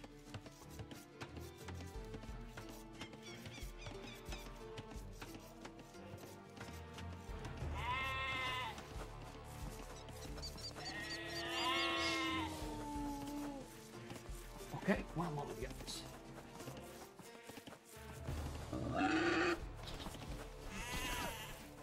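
Sheep bleat repeatedly in the Age of Empires strategy game, several wavering calls rising over a steady layer of game sounds and background music, with someone commentating throughout.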